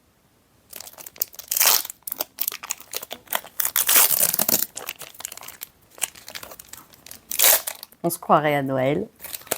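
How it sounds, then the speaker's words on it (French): A Lorcana card booster pack wrapper is torn open and crinkled, with loud, close, irregular bursts of crackling plastic, and a person speaks briefly near the end. "on va ouvrir donc le booster, parce que c'est ça en fait le plus intéressant"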